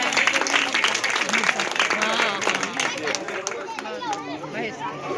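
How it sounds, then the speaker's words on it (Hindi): An audience at a Viksit Bharat Sankalp Yatra event applauds in sustained, dense clapping mixed with crowd chatter, steady and fairly close throughout, with voices mingling in the background. "बाकी सभी लोग एक बार तालियों से अभिनंदन करते हैं"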